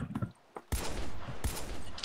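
Gunfire in the video game GTA San Andreas: dense bursts of shots that open suddenly after a short quiet gap and continue loud and sustained, with a second sharp burst partway through.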